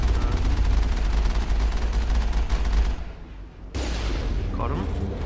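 Sniper and other gunfire in the Mass Effect video game during a fight against the Geth at an outpost, with dense rapid shots for about three seconds, a brief lull, then more loud bursts of combat noise.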